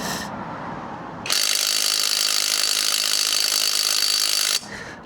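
A power gun with a socket fitted, run against a nut on a van, gives a loud, steady high-pitched motor whir for about three seconds, then stops abruptly.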